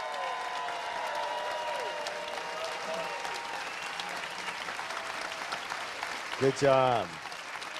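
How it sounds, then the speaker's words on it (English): Audience applauds a millionaire panel with a steady wash of clapping throughout, while voices talk over it and someone speaks briefly near the end. "let's give them all a big round of applause"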